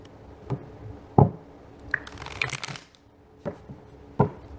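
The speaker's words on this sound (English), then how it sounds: "we're going to do a few more shuffles for Virgo" Tarot cards shuffled by hand in a quiet room: a series of soft papery riffles and taps, with sharp bursts spaced irregularly and a longer rustling flurry in the middle, close and clear with no talking.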